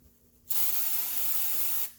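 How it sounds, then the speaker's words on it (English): A short, loud burst of white lithium grease sprayed from an aerosol can while working on a 2014 Kia Rondo lower ball joint; a steady hiss of about one and a half seconds starts and stops abruptly. "it would be a good idea on your part to employ the use of some white lithium grease"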